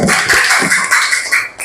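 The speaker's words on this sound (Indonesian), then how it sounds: "tepuk tangan." A classroom of fifth-grade students claps together during an Indonesian language lesson, a steady, dense patter of many hands lasting a couple of seconds at close range.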